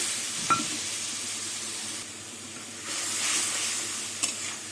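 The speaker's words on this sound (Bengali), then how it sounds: "এবার মশলাটা কিছুক্ষণ কষিয়ে নেব একটু জল দিয়ে দিলাম" Spice paste for a prawn and pointed gourd curry sizzles steadily in a pan after a splash of water, a continuous close frying hiss with faint stirring scrapes and a couple of light clinks.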